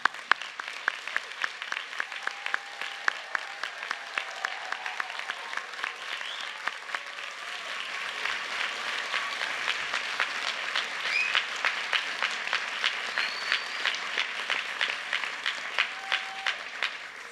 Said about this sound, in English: my notes now call for enthusiastic applause